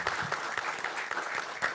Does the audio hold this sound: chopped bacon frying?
no